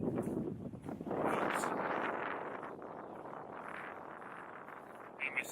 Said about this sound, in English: It's super windy. Can you hear the wind?